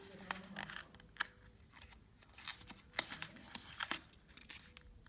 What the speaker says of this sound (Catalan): dobleguem el full una mica